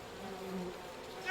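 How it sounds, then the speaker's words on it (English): An angry swarm of bees drones in the game We Happy Few, a low steady buzzing hum that swells briefly near the end, fairly quiet and without talking. "Oh no, not the bees. Not the bees."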